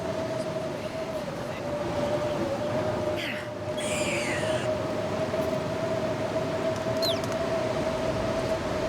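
Blizzard wind in The Long Dark, a steady loud roar of howling gusts that fills the whole clip, with a sustained whistling tone running beneath it.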